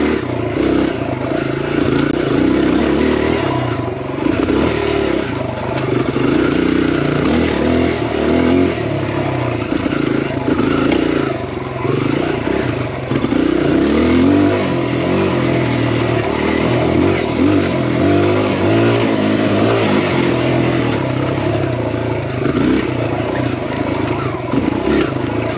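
A Kawasaki KLX140RF dirt bike being ridden fills the whole span with a loud, close engine drone that rises and falls with throttle changes, the buzzing note continuous from start to finish.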